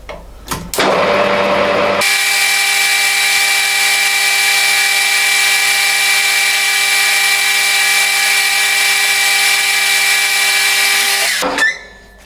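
Metal cut with a high-speed steel tool while machining a new drive pin: a loud, steady whine with bright overtones starts abruptly, holds evenly for about nine seconds, then stops.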